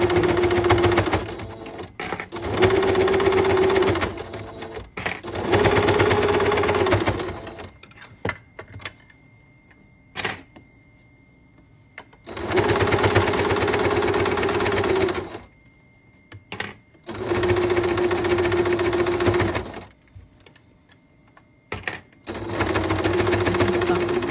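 A sewing machine runs straight stitches on a nurse's scrub cap, steady whirring bursts of several seconds each, stopping and restarting repeatedly, close and clear.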